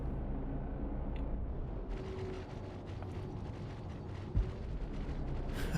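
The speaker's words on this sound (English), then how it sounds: "Our home PDCs are shooting at it now." Point defense cannons on a spaceship fire in a video game as a steady, dense rattling stream over a low rumble, with one brief thud partway through.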